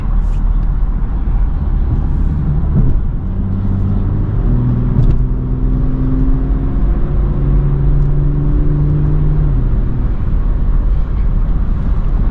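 A BMW and a small Porsche accelerate hard on a Long Island highway, heard from inside a moving car as a loud, constant road and engine roar with rising engine tones.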